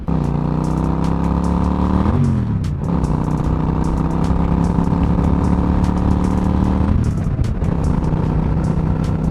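Motorcycle engine runs loud and steady from the rider's point of view, with two clear dips in revs near two and seven seconds as gears shift, then the pitch climbs back up each time.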